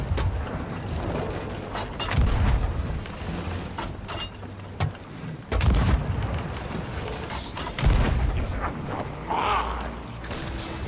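Ship cannons fire chain shot in the video game Sea of Thieves, with several deep booms spread over a busy, loud battle soundscape of creaking, splashing and clatter, close and forceful.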